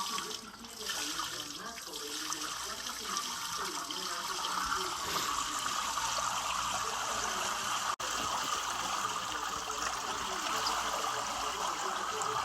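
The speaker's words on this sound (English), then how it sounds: "So now we're going to change water and then repeat the cleaning. So just pour out the water." Water is poured off a batch of washed coffee beans during processing, a continuous splashing, trickling pour heard up close that runs steadily throughout with a brief break near the end.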